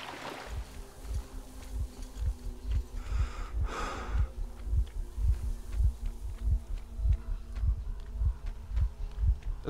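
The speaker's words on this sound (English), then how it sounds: "Does anybody else hear that heartbeat?" A steady heartbeat pulses in the video game Metro Exodus, a low, regular thumping repeated about twice a second over a faint hum, with a brief breathy swell in the middle.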